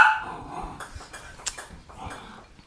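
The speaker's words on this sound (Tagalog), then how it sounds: "bakit nag-iingay yung aso?" Dogs barking and growling close by in a house, a few sharp, rough barks spaced irregularly with whimpering in between.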